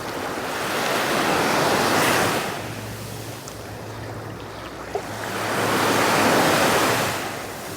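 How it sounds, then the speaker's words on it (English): Waves wash in and out on Lamai Beach, Koh Samui, Thailand: two broad surges of surf rise and recede in a slow rhythm, with a quieter lull between them and light wind noise on the microphone. "the noise of the water just coming in and out"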